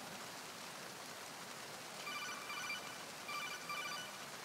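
A telephone in the Metal Gear Solid game rings in two short electronic bursts over a steady hiss, faint and somewhat distant.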